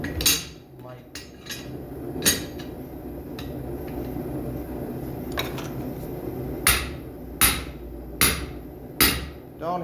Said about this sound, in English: Don't hammer on cast iron.